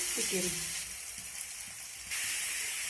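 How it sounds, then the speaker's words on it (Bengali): Marinated chicken fries with softened tomato in a pan while being stirred, giving a steady close sizzle and hiss with soft stirring scrapes and a brief voice at the start. "চিকেনটাকে নেড়ে চেড়ে আমি খুব ভালোভাবে কষি"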